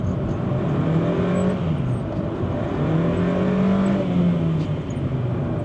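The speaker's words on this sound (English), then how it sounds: "Slippy clutch, there we go, and again." A Honda Jazz engine revs and strains uphill with a slipping clutch, its steady drone rising and falling in pitch through two surges, loud and close, with no voices.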